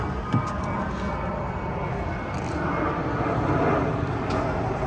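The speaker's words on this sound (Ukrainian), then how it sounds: "Літак." An airplane passes overhead outdoors, a broad, steady roar that builds slightly toward the end, heard alone without talk.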